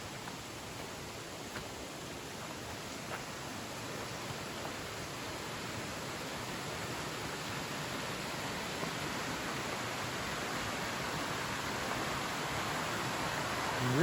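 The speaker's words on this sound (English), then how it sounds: "see the little creek flowing through here" A little creek flows over rocks on the Big Creek Gulf Loop in South Cumberland State Park, making a steady, unbroken rush of water that holds level throughout, with no voices.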